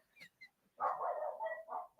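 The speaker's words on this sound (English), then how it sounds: "She's just sat watching the dogs bark now." Dogs bark in short bursts: a couple of faint yips, then a louder, sustained run of barking, fairly close.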